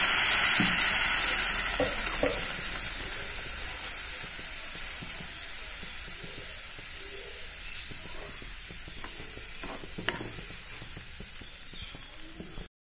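Half a litre of milk poured into a pan of lightly roasted matta rice for avil payasam, giving a steady close hiss and sizzle that eases off over time, with faint stirring knocks and no talk.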